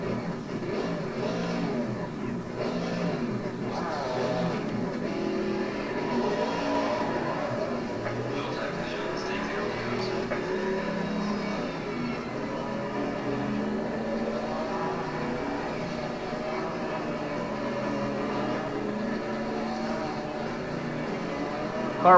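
A race car engine in Assetto Corsa Competizione on PS5 drones and revs continuously, pitch rising and falling through gear changes at moderate loudness.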